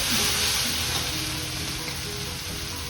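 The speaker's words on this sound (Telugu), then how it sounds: "కొంచెం వేగనిద్దాం" Beans, onions and tomato frying in a pan for a beans and dry fish curry, a steady close sizzle with soft stirring scrapes, loud and continuous throughout with no voices.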